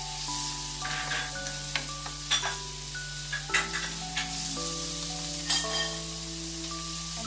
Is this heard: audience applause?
no